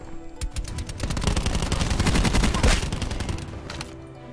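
Rapid automatic gunfire from a weapon in a video game, a loud, dense stream of close shots that builds into a continuous burst lasting several seconds before tapering off.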